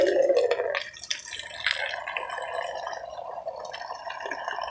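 Water gurgles and splashes out of a simple bamboo bore well, gushing loudly at first and then settling into a steadier, softer trickling flow with small drips.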